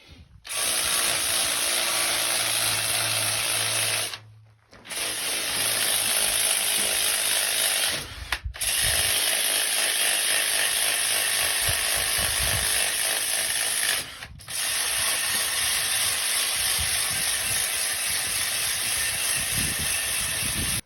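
Angle grinder with a wire wheel scouring rust spots off the steel body of a wood stove, a loud continuous high-pitched whine running in long bursts, cut by brief pauses.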